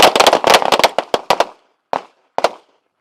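Handgun shots fired on an outdoor shooting course, a rapid string of about a dozen loud cracks followed by two separate, spaced single shots, with no talking.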